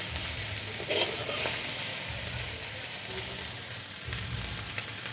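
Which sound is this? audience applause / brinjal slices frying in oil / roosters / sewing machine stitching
brinjal slices frying in oil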